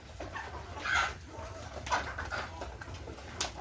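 Sonali chickens in an egg farm shed give a few scattered, fairly faint clucks and calls over a low steady hum, with no one talking.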